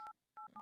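Telephone keypad dialing tones: three short, clear dual-pitched beeps in quick, uneven succession, loud and alone with no talk over them.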